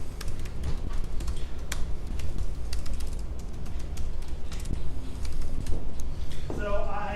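Keystrokes on a computer keyboard as a command-line tool command is typed on a Mac, rapid irregular clicks running steadily under a continuous background hum, with a brief different sound near the end.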